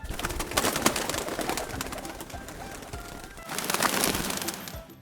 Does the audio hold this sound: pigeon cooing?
yes